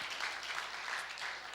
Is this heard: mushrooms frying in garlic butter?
no